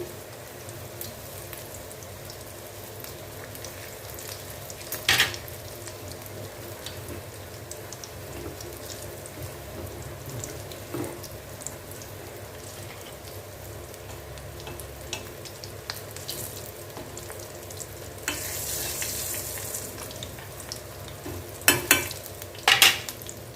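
Veg bondas fry in hot oil with a soft, steady sizzle like light rain, close and fairly quiet, broken by occasional clinks and stirring sounds, with no voices.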